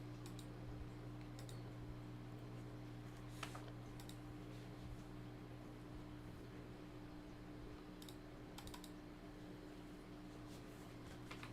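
A cat walks across a computer keyboard, producing faint, irregular key clicks and taps scattered over a steady low hum of a fan, with no talking.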